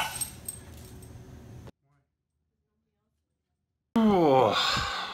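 A dog whimpering close by in a high, wavering whine that follows a stretch of silence, after some quieter indoor noise at the start.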